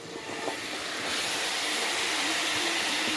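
Half a kilo of chopped tomatoes goes into a hot pan for a Tirunelveli-style tomato kootu. A broad, steady sizzling hiss swells after the first second and holds loudly to the end, with no talking.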